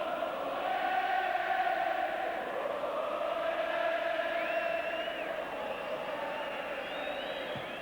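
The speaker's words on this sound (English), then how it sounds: "Really packed terraces, capacity crowd at Main Road." Capacity football crowd on packed terraces at Main Road during a 1985 FA Cup semi-final replay, a constant distant roar with rising whistles and shouts swelling above it.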